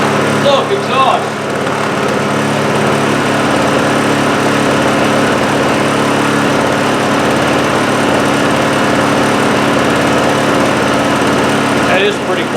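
A repaired Honda generator engine runs steadily in eco-throttle mode, a loud continuous small-engine drone with an even tone and no speech.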